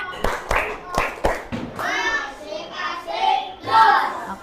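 A few sharp, rhythmic hand claps ring out close up, then children's voices chant together in a lively group.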